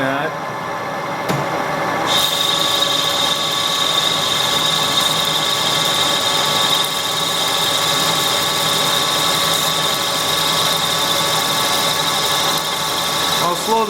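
Milling machine cutting metal in a workshop, a loud continuous mechanical drone with a steady high whine that holds without pause after a quieter first two seconds.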